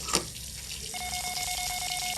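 Water running from a tap, a steady splashing hiss that continues throughout, with a thin whining tone joining partway through.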